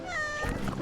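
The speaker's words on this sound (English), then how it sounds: "hearing a cat like trying to either throw up or hack up a hairball" A cat in the video game Wytchwood makes a drawn-out, strained meowing sound that breaks into rough, gagging hacks as it works up a hairball, close and clear with nothing else over it.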